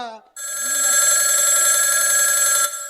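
A telephone rings loudly in one continuous electronic trill lasting over two seconds, right after a brief voice.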